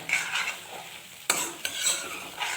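Potato dum biryani gravy being stirred in a pan, a soft simmering sizzle with a few distinct scraping clinks of the spoon against the pan, heard close and fairly quiet, with no voices.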